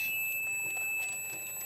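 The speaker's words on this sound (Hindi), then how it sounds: "मल्टीमीटर को कंटिन्यूटी में सेट कर देंगे। जैसे कि आप सुन सकते हैं बीप की आवाज़ आ रही है" A multimeter set to continuity gives a steady, high, unbroken beep while ground wiring is checked on a Maruti A-Star with a camshaft sensor fault, faint handling noises underneath.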